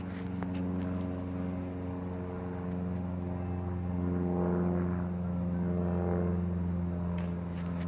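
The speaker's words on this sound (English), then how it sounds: "Airplane going through there" An airplane passes overhead above a cold winter garden, a steady low droning hum with rising and falling swells, fairly loud and continuous with no voices.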